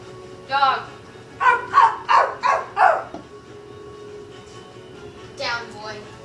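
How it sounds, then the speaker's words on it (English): A dog barks in a quick run of four or five loud, close yaps, followed by a fainter single bark, with some voice sound around them in a comedic setting. "Dog."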